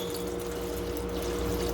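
K-Reducer pours steadily into a batch of paint, a continuous close liquid rush with no pauses.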